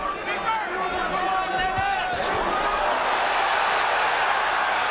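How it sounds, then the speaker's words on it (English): British fans chant in a boxing arena crowd at a WBC heavyweight title fight, a loud, continuous wash of voices with sustained chant tones rising over the roar for the first two seconds before blending into general crowd noise. "right now, the most exciting thing is the chanting from the Brits in the crowd"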